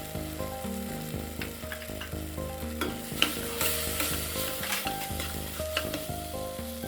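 Spice masala of turmeric, chilli powder, coriander powder and garam masala sizzles in a pan for tomato rice, with repeated rhythmic scraping strokes of a spoon stirring it steadily and close up.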